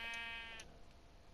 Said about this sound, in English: Oh, look, a sheep.